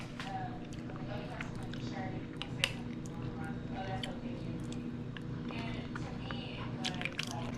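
Someone close by takes bites of protein oatmeal and chews wetly, with soft squishy mouth sounds and small clicks, while a voice talks over much of it.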